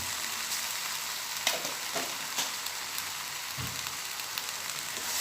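Greens with egg stir-fried in a wok over high heat, a steady close sizzle with scattered scraping stir strokes and occasional clatters, no voices.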